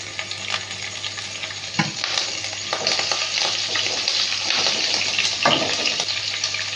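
Chopped raw ginger and green chilli frying in a pan, a steady close sizzle with a few sharp stirring scrapes breaking through.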